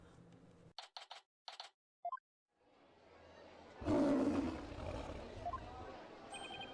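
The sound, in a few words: roaring cry of a warbod bird in Ace Attorney video game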